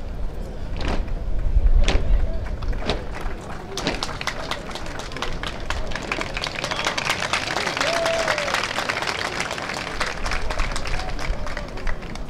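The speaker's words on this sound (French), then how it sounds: "le spectacle offert par la police du CNT qui est applaudi ici par le public" A crowd of spectators applauds a police display at a parliamentary ceremony for the CNT, with scattered clapping sustained throughout under a spoken voice.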